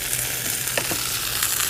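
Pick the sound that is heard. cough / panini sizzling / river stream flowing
panini sizzling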